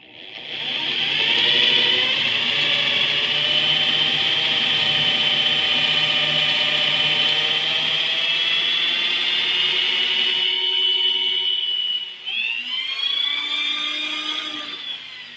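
A drill whines steadily through wood on a banjitar restoration for a long stretch, a sustained high-pitched grinding that briefly drops out and restarts near the end.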